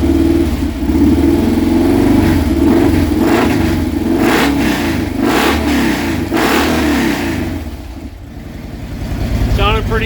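A 2018 Harley-Davidson FLHTK touring motorcycle fitted with a 107-to-114 big-bore kit rumbles loudly at close range, its engine snapped through sharp rev bursts that swell and fall back over a steady idle.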